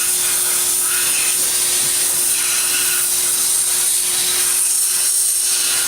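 Sandblasting a Scout vise with old, dusty sand: a loud, continuous hissing blast of air and grit, steady and close for the whole stretch with no pauses or talk.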